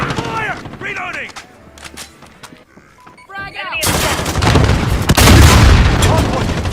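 Rapid bursts of video game gunfire and booming blasts during a hardpoint match, quieter shots and game voice callouts at first, then a loud, dense barrage of automatic fire and explosions filling the second half.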